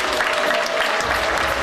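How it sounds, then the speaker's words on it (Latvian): Audience at the Mis un Misters Balvi 2004 pageant applauding as a couple is welcomed on stage, a full, sustained crowd clapping roar with no pauses. "Sagaidīsim par aplausiem Karīna Matisone un Gatis Ostreiko."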